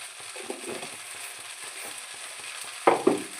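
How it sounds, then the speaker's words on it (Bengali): Onion frying in a pan as a home cook prepares masala-seasoned noodles, giving a low, steady sizzle with faint scraping, then two louder stirring clatters near the end. "তখন তো আমি একটু পিঁয়াজটা ভাজার জন্য দিয়েছিলাম"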